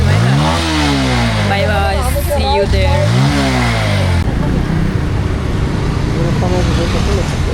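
A motorbike engine revs up in two rising bursts, then settles into a steady running drone as the bike moves off, with voices talking over it outdoors at night.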